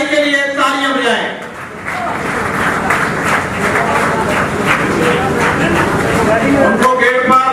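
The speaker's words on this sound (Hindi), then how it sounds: "आप उनकी हौसला अफजाई के लिए तालियां बजाएं" Audience applause for a guest at a taj pushi ceremony during a kushta-making workshop, dense clapping from many hands that swells after a man's spoken introduction and continues steadily, with a voice returning near the end.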